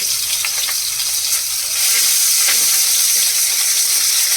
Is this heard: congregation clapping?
no